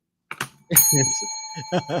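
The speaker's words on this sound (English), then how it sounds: "wow, I got a bell" A bell rings out sharply among studio chatter, its long steady tones ringing on for nearly two seconds while voices talk over it close by.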